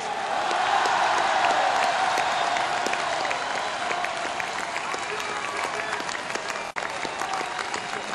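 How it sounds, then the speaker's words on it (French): Sustained, loud audience applause from a large crowd at a political speech by a French president-elect, steady dense clapping with faint cheering throughout. "je vous demande de les applaudir comme ils le méritent"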